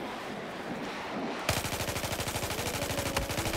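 Gunfire in the Battlefield 4 video game during multiplayer conquest on Goldmud Railway: after a muffled opening, a loud rapid automatic burst of machine-gun fire starts abruptly and rattles steadily to the end.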